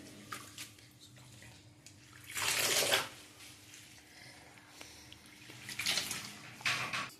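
Fenugreek leaves are rinsed by hand in a bowl of water, giving two clear bursts of swishing and splashing separated by quieter dripping and small handling noises.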